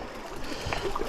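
A stream flows beside a gravel road in Santa Barbara, its gurgling trickle close and fairly loud, with small splashes and bubbling bursts rising over a steady watery rush.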